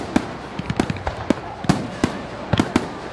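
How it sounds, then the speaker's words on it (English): Fireworks bursting at an annual Japanese matsuri festival celebration, a rapid irregular series of sharp loud cracks and pops with crackling tails, no voices. "performances, and fireworks."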